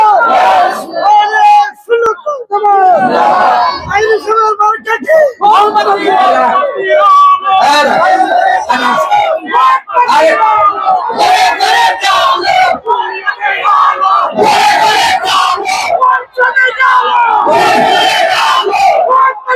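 A large crowd loudly chants election slogans for Allama Taheri in rhythmic call-and-response shouts, with a voice leading and many voices answering in unison, close and continuous.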